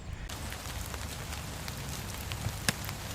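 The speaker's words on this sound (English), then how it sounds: "I've managed to take everything apart in the rain." Steady rain falls outdoors on a roadtrip in Ireland, a soft continuous patter with a few sharper drips and taps standing out near the end.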